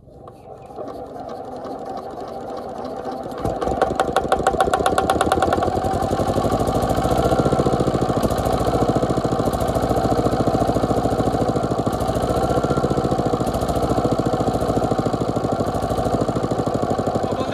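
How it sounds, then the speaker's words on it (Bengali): An old water pump engine, newly repaired, sputters to life and settles into a loud, steady mechanical running with a rapid regular chug. It stays close and continuous without pause. "দেখতে পাচ্ছ মেশিন স্টার্ট উঠে গেল, কিন্তু জল আসছে না"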